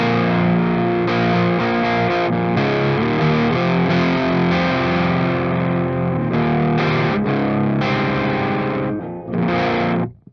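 Electric guitar played through the Clairvoyant amp plugin at a medium gain setting, giving a thick, distorted, sustained riff with chugging chords that ends in a brief ringing note before cutting off.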